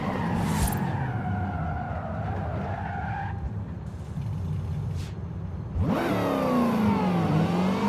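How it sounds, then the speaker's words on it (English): A supercharged car in the Forza racing game, its whiny engine revving hard through rising and falling sweeps, with tyres skidding and squealing between bursts, loud and close with no voices. "Listen to that engine."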